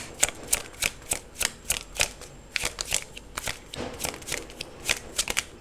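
Tarot cards riffled and shuffled by hand in a quick run of crisp, papery bursts, each a short flutter with brief pauses between, close and fairly soft with no talking.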